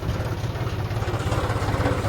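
Tractor engine idling in a farm field during harvest, a steady, close, low rumble with a slight regular pulsing throughout and no voices.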